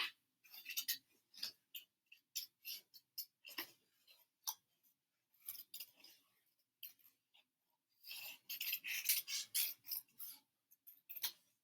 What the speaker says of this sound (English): When I cut, I always hold the paper up, point my scissors up a little bit, and I move the paper and not my scissors.